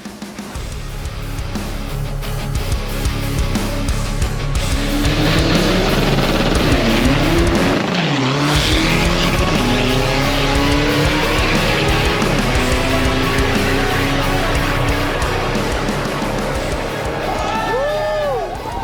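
A Thai drag-racing car with a 1.9 engine runs loud and close. The engine revs and climbs in rising sweeps with a brief drop partway, amid crowd noise and someone talking throughout.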